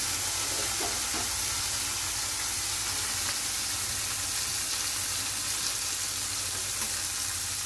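Paneer frying in a pan, a steady broadband crackle and sizzle that runs unbroken from start to finish, with a few faint clicks of a spatula near the start.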